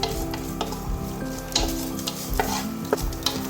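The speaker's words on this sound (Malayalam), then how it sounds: "അതിലോട്ട് നമ്മൾ അരിഞ്ഞ് വെച്ചിരിക്കുന്ന സവാളയും വെളുത്തുള്ളിയും ഇതിലോട്ട് ഇട്ട് കൊടുത്തിട്ടുണ്ട്" Sliced onion and garlic sizzle steadily in a pan for a chicken pizza, loud and close, with intermittent scraping stir strokes and no talk.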